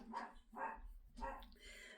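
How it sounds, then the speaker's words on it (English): A dog barks indoors in a few separate bursts, fairly faint and muffled, sounding as if it comes from beyond an open door. "There goes the dog"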